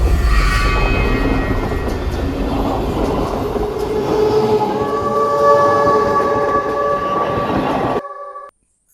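A train rolls along a railway line as a cartoon sound effect: a loud, steady rumble with a horn-like tone, then it cuts off abruptly near the end.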